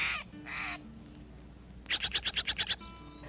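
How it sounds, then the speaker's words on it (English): A scrub jay gives a rapid run of about eight harsh, raspy calls nearby, after a few scattered bird notes. "Oh, Nikki, I just heard Mr. Scrubjay, and he is the guardian of the chaparral"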